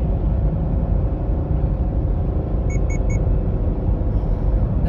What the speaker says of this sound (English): The three beeps that you just heard were lane departure because I did not use my turn signal